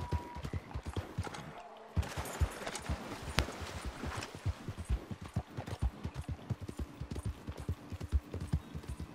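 Horse hooves clip-clopping steadily at a quick pace in Red Dead Redemption 2 Online, close and fairly loud, a continuous rhythmic gallop with a short break near the start.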